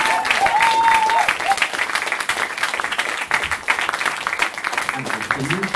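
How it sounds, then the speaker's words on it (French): A crowd claps warmly and continuously at a science theatre event in Strasbourg, with a voice briefly heard over the applause near the start and end. "de grands applaudissements pour elle"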